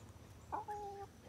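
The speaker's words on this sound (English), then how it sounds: "That's my Marin cross rooster." A single Marans cross rooster gives one short, faint crow, a brief rising note that settles into a held tone, heard at a distance over low background noise on a hot farm day.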